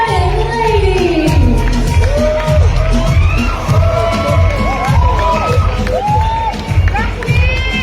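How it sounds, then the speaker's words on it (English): Audience at a Miss Universe Philippines pageant cheering and clapping, a dense, loud crowd roar with whoops and shouts running steadily throughout. "Let's give another round of applause to our stunning ladies."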